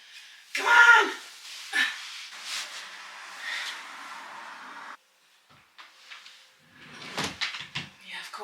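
Household drawers are pulled open and pushed shut, with clattering wooden slides and thumps in two bursts separated by a short quiet pause, loud and close.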